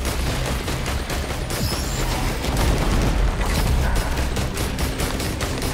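A burst of missiles fires in the shooter Risk of Rain 2, a dense run of rapid thumping launches and explosions that keeps up for several seconds at high volume over game noise, with no talking.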